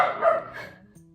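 A puppy gives a short, close bark that trails off into a soft whimper, with faint room noise afterward.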